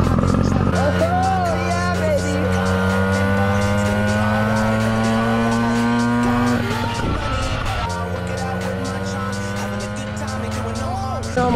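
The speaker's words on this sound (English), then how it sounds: "We're just going to have fun with the pocket bike POV." A small gas pocket bike ridden at speed, its high-pitched engine whining loud and close with rising and falling revs, briefly dropping off around the middle before climbing again.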